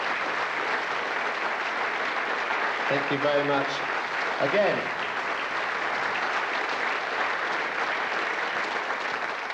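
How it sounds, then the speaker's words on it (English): A concert audience at a Children In Need charity show gives sustained applause for the stage manager. The clapping runs steady and full throughout, and a voice briefly speaks over it partway through. "Let's give her a big round of applause."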